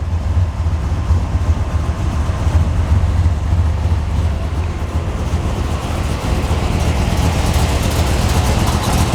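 A 1966 AMC Ambassador V8 idles loudly and close by with a steady, deep, rumbling drone and slight pulsing throughout, with no talk.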